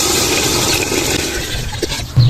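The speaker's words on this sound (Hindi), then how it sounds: "तो इंशाल्लाह अभी पानी डालेंगे।" Water pours steadily and loudly into a cooking pot of beef painda, a village-style D.I. Khan meat dish, as a continuous rushing splash that ends with a brief clunk.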